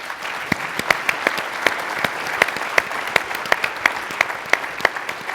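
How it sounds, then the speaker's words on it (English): Steady applause from an audience after a panel discussion, many hands clapping together with sharp individual claps standing out, continuing throughout without voices. "Let's give them a round of applause."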